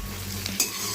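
Tomatoes and coriander stalks fry in a pan under steady sizzling, with a brief scrape of stirring partway through, close and moderately loud.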